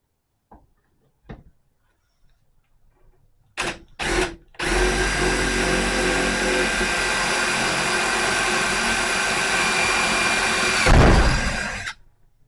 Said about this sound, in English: Hammer drills, can't beat them.